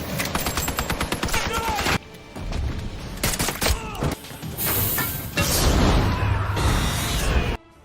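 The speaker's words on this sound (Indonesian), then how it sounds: "Tak lama anak buah Kryn pun datang dan aksi tembak-tembakan kembali terjadi." Gunfire in an action-film shootout as a hitman's traps meet a mafia boss's henchmen: dense, loud bursts of shots and booms that come in waves, mixed with other busy film sound throughout.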